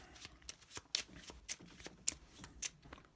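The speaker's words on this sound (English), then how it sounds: "So we'll shuffle this." A deck of game cards is shuffled by hand on a tabletop, giving soft riffling bursts and crisp snaps in an irregular rhythm, quiet and close.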